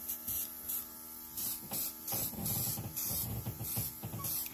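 A Luminess airbrush air compressor runs with a faint, steady electric hum and whine, with soft hissing bursts of spray coming and going, heard close in a quiet room with no voices.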